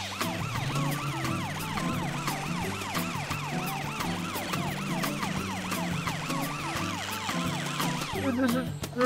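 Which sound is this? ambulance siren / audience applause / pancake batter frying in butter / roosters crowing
ambulance siren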